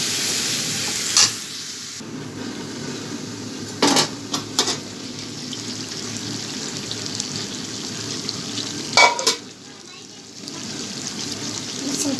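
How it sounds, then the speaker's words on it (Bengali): Spice masala and cucumber sautéing in a pan for a Bengali prawn curry: a low, steady sizzle runs throughout, broken by a few sharp scrapes and clinks of a spoon against the pot. "এদিকে মশলাটাও কষা হবে, আর দিয়ে দেবো শসা।"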